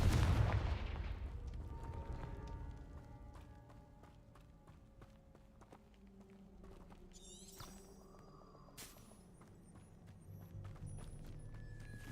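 Confringo blasting spell cast in Hogwarts Legacy, a loud burst at the start followed by rumbling booms and a scatter of sharp impacts over a background game score, with no talk.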